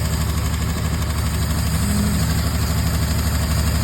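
The slant engine of a long-abandoned 1964 Plymouth Valiant runs with a dead cylinder, a close, loud, uneven rumbling idle with a pronounced top-end clatter and a steady pulsing throb.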